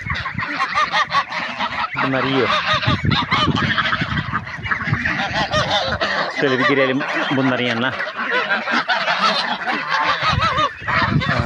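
Many geese, around fifty, honk loudly and continuously, a dense flock close by in a garden, with someone speaking over the noise.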